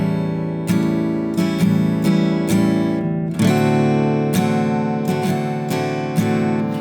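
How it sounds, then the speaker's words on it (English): An acoustic guitar plays a rhythmic strum pattern, mixing down and up strokes. The accented strums repeat steadily and sound close and full, with no voice. "So the first version of the strum that I'm going to recommend sounds like this."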